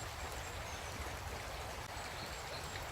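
Steady broadband rush of the River Towie flowing past in South Wales, a constant close wash of moving water with no pauses or voices.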